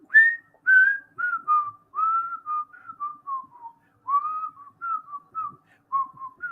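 A singer whistling the melody from the end of a song, a clear solo tune of short, falling phrases heard alone against silence.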